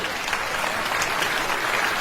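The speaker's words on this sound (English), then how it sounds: "45 or older, applaud." Large theatre crowd at a stand-up comedy show applauding, a continuous dense wash of clapping at steady loudness, heard alone without any speech.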